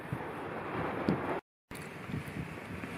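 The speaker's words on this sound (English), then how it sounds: "It's still windy as hell" Steady wind roars and buffets the microphone throughout on Dartmoor, briefly cutting out in the middle before the blustery rush resumes.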